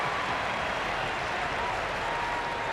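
A big arena crowd roars and claps at the 2019 CrossFit Games women's clean event, a dense, steady wash of cheering and applause that holds loud throughout.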